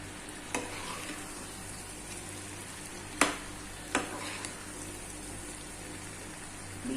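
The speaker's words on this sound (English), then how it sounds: "Now we are going to mix it well." Boiled vegetable noodles are stirred in a frying pan over a soft continuous sizzle, with a few sharp clinks and scrapes of the utensil against the pan at irregular moments.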